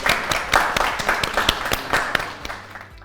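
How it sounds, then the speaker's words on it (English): Audience applause closing a wardrobe-styling talk, a loud burst of dense clapping that thins out and fades over a few seconds. "Have a lovely, lovely round of applause."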